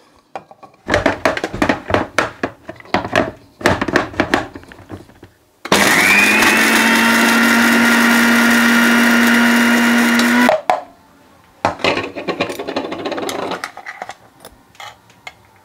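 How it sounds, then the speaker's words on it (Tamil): A mixer grinder powders whole cinnamon sticks in one loud, continuous whirring burst of about five seconds, with scattered clattering knocks before and after. "கருவாவை எடுத்து மிக்சியில் போட்டு நல்லா அடித்து கொள்ளலாம்"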